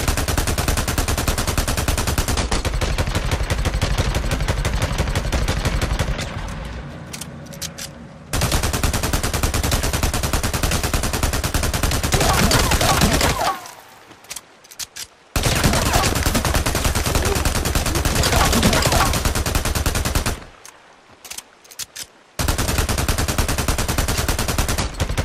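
Rapid sidearm fire in the Days Gone video game comes in loud, dense sustained bursts broken by short pauses and reload gaps, up close with no talk.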